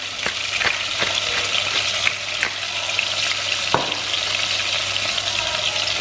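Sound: chicken pieces searing in a pan for coq au vin

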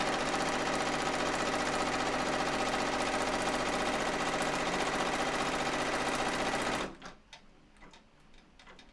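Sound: embroidery machine stitching a placement stitch

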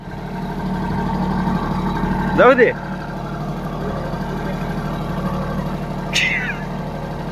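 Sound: tractor engine running

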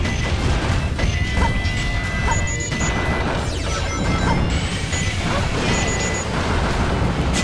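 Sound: missile explosions in video game Sonic Adventure 2 Battle

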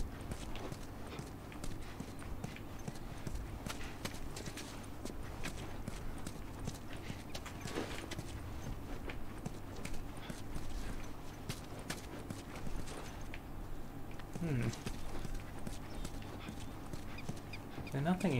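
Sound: footsteps stomping around in the video game The Last of Us

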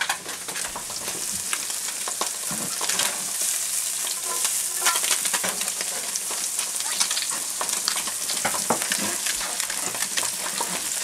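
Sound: shiitake, sun-dried tomatoes and serrano chili frying in a pan

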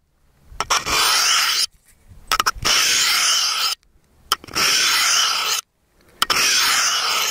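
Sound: knife honed on ceramic rod, crisp sound

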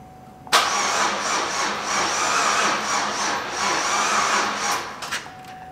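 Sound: engine cranking and trying to start on carb cleaner

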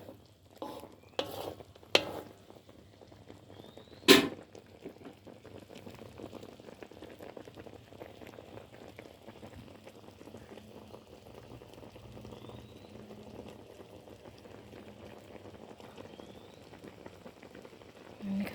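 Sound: bananas simmering in sugar syrup on low heat

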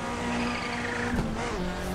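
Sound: Toyota car turbo in Assetto Corsa video game

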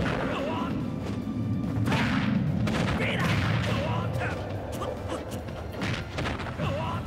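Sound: Terry Bogard smash attack in video game Super Smash Bros. Ultimate

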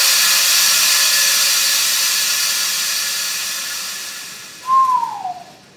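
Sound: air blowers pumping air into a tube

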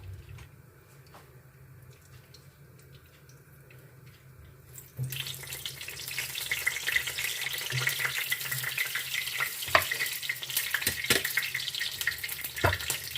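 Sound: onion frying in lard

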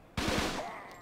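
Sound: gunfire in Fighting Force 2 video game

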